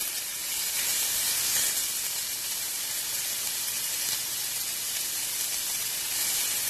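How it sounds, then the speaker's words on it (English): Green peppers and onions sauté in a pan, giving a steady, bright sizzling hiss that stays even and fairly close for the full length, with no voices. "we're going to just let those saute for maybe 3 to 4 minutes here"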